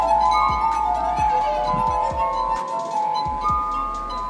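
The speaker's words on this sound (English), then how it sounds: "People out here making music from glass and water" Ringing glass tones from a street performer playing glasses of water, sustained bright pitches with repeated soft clinks and strikes in a steady rhythm, close and clear.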